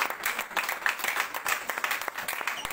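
A church congregation at a worship service breaks into applause, a dense wash of many hands clapping steadily, loud and close, with no clear talk over it.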